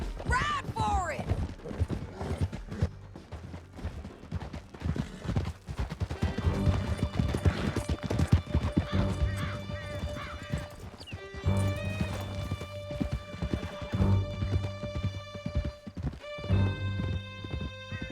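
Horses gallop in Red Dead Redemption 2, with rapid hoofbeats clattering steadily throughout, neighs and whinnies, and shots in the background. Voices can be heard shouting over the riding.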